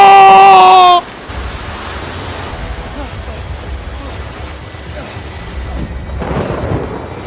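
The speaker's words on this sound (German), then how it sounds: "Regen. Bum, bum auf dem Dach." Heavy rain drums steadily on a roof during bad weather, a dense, constant wash of noise that swells slightly toward the end, preceded by a brief tonal sound at the start.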